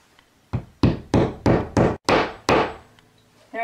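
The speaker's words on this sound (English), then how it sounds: "Now I'm going to take my hammer and hopefully, very easily, hammer these anchors into the holes." A series of loud, sharp hammer blows driving anchors into holes in a wall, about seven strikes in fairly regular rhythm, close by, with a few faint taps between.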